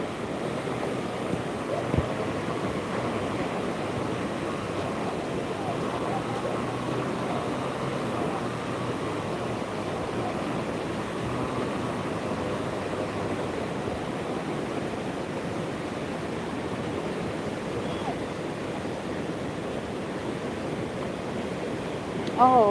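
The Hope River in Kingston, swollen after Hurricane Melissa, gives off a steady broad rushing roar that holds even and unbroken for over twenty seconds, with a low rumble beneath.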